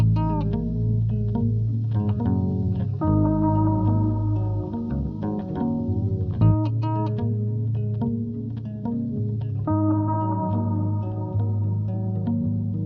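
A looped melodic phrase with heavy chorus, echo and distorted processing, steady and sustained throughout with no voices.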